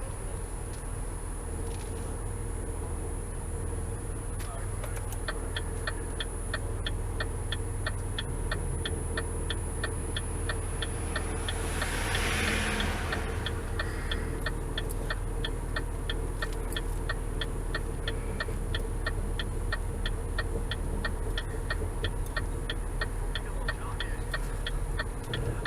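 A 9C1 police-package Impala idles while nosing a broken-down Ford along with a push bar: a steady, close low engine rumble runs throughout, with a regular light ticking pulsing over it.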